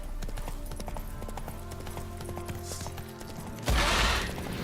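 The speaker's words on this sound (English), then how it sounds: "Whoa there, Roach." Horse hooves clip-clop in a steady rhythm in The Witcher 3, with game music and ambience underneath, then a louder burst of noise near the end.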